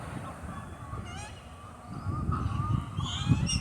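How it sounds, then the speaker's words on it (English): Geese on a small island honk and call repeatedly nearby over gusty wind, several birds overlapping, growing busier toward the end. "But look how many birds are on there."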